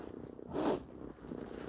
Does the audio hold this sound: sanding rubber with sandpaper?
no